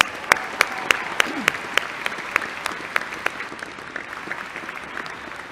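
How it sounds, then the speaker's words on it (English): Audience at a university engineering and computer science commencement applauding, with sharp rhythmic claps standing out over a softer crowd wash that gradually thins toward the end. "Let's give them all a round of applause."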